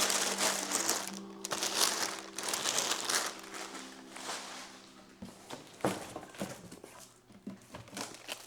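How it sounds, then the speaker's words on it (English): Wrapping paper crinkles and rustles while a package is unboxed, close and continuous with irregular crunchy bursts and handling sounds, no talking. "oh God, it's full of like wrapping paper."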